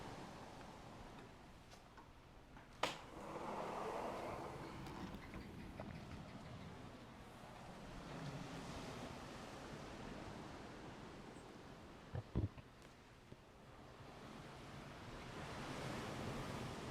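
Ocean waves wash steadily onto an Anguilla beachfront by a luxury condo, a broad, even surf hiss with a few brief knocks and no talk.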